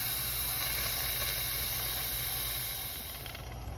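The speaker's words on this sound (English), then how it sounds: "Now I'm going to turn the steam release knob to venting to release the rest of the steam." Steam venting from an Instant Pot's pressure release knob while making Hong Kong-style curry beef, a steady loud hiss that holds evenly and eases slightly toward the end, with no talking.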